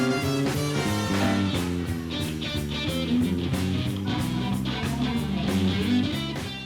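Live band performing at the Leo Awards in Vancouver, a full ensemble with steady rhythmic chords and percussion playing continuously at an even, fairly loud level with no talking.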